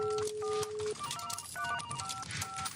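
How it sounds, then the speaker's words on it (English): A call-in radio phone line opening jingle built from telephone dialing tones, a run of steady electronic beeps and touch-tone pitches layered over a busy musical background. "We need to do the phone opening jingle"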